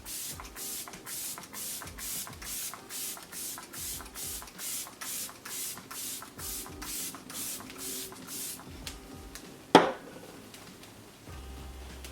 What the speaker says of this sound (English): I'm gonna go in with the Fix It Forget It up to 24-hour setting mist by Lancome